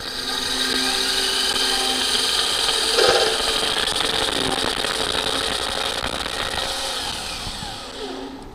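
A power drill runs continuously with a high, steady whine and a faint grinding edge, close by, tapering off slightly at the end.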